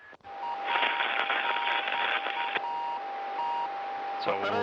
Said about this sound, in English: you also hear the intermittent beeping sound. It's a beacon that is emanating from the Soyuz craft